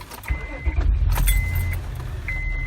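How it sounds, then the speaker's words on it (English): A car with a dash cam is started up nearby, with key jingling and a brief starter whir followed by a low engine rumble and a few soft electronic beeps. "Let me turn the car on."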